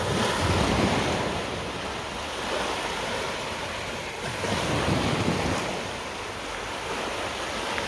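Sea waves wash steadily onto a sandy beach with very clear, warm water, a constant loud surf roar with gentle swells and some wind noise, no voices.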